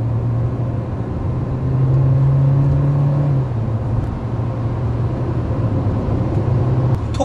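A new Hyundai Sonata rental car with a gasoline engine accelerates on the road, a droning engine note rising and holding, then easing off, over steady road and wind noise, with no talking.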